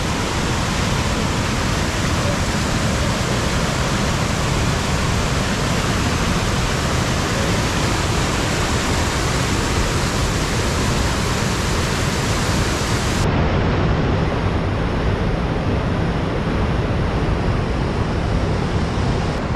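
Kumbhe waterfall near Pune, heard from the top, roars in a loud, steady broadband rush of falling water that continues unbroken throughout, with no voices.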